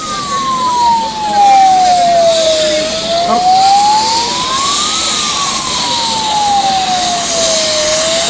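Ambulance carrying a donor heart to Lisie Hospital in Kochi: a loud, close wailing siren that sweeps slowly down and up in long cycles over street traffic noise, with no clear talk.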